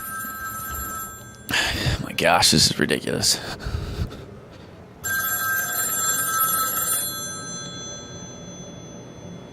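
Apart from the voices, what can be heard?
phone ringing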